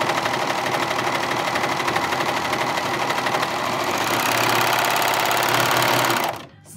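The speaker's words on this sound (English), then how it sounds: "And we have a beautiful 4-thread overlock stitch." A PFAFF Admire Air 5000 overlocker stitches a 4-thread overlock seam, its fast steady mechanical hum and rapid needle chatter running loud and close before stopping abruptly at the end.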